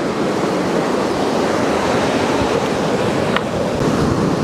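Waves washing over a pebble beach on a New Zealand shore near a small cliff: a steady, loud, continuous roar of surf with no distinct breaks, heard close and alone.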